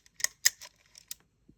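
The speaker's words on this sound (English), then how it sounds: "If I cock the shutter lever," Cocking the shutter lever of a Miranda Sensomat film camera gives a quick series of crisp mechanical clicks and ratchet snaps, close and isolated, then a faint soft tap.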